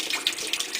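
Stain remover is poured onto a blood-stained sock in a brief, soft liquid trickle with a light splashing hiss, quiet and close.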